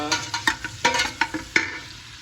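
Onions sizzle in a pan for beef mechado while a utensil stirs them, giving irregular scraping clicks over a soft frying hiss, close up and with no talking.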